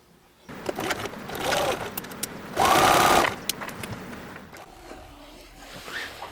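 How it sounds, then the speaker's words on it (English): Sewing machine running in short bursts as garment side seams are stitched together, one steady loud run in the middle, closer and clearer than the softer handling noises around it, with no talking. "I'm going to sew the side seams together"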